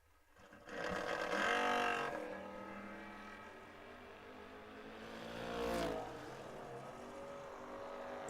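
Drag race cars, including a big red Supersport Nova, launch down the track at a memorial bracket race, their engines roaring loudly at the start, then fading and swelling again with distance.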